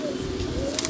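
A pigeon in a loft cooing once, a soft low throaty coo up close over faint background noise.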